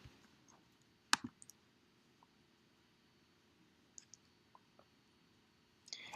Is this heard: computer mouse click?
yes